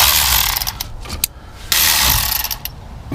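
A brake caliper bolt on a 2017 Ram 1500 is worked loose while held with flat-face pliers, giving short ratcheting clicks and metallic scraping in two bursts, close and fairly loud.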